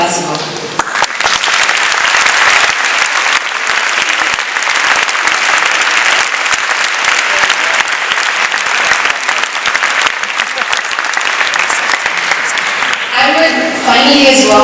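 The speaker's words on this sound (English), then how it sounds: "I would like to receive a huge round of applause for our Secretariat team and all the conference staff" Conference audience giving a sustained, loud round of applause for the secretariat team and staff, steady dense clapping from a large crowd that tapers off near the end as a voice returns.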